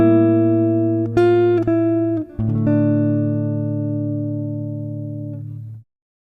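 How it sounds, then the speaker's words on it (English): A jazz guitar plays a chord melody over the first four bars, with a tone cluster under an A melody note in bar 2. A few clean chord changes sustain and ring out, slowly fading alone. "let's have a listen to the first 4 bars with the tone cluster under the A melody note in bar 2"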